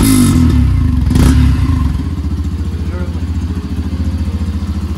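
A Yamaha FZ motorcycle engine cranks and catches, then settles into a steady, pulsing idle close by.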